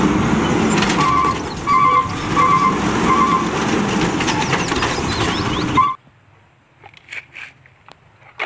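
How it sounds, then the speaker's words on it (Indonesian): A toy garbage truck gives off a steady, close mechanical whirring and rattling for about six seconds, then cuts out, leaving a few faint clicks and knocks. "Ini mobil truk sampah."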